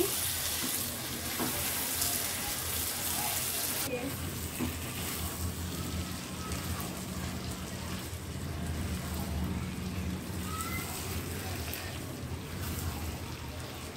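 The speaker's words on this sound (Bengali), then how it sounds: "একটু নাড়িয়ে নিচ্ছি।" Beef sizzling in a pan as it is stirred during slow frying, a steady dense hiss with soft scraping underneath, close and continuous throughout.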